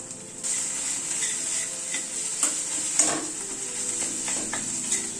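Sesame and coconut paste being sautéed in a pan for a pointed gourd dish, a steady close sizzle broken by occasional scraping stirs of a spatula, with no talking.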